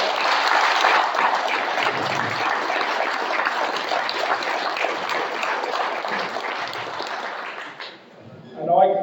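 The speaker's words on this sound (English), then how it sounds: "could we give a round of applause for them?" An audience at an annual meeting gives a sustained round of applause honoring long-serving members, dense clapping filling the space for several seconds before fading, followed by a brief voice at the end.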